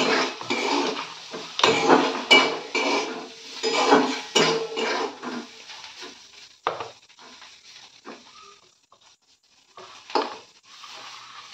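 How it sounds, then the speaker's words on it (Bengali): Fish is mixed with spices and a little white oil in a bowl. Busy clattering and scraping of the bowl and utensil comes first, then thins out to sparse knocks. "এবারে ভালো করে এইগুলো মিশিয়ে নিতে হবে।"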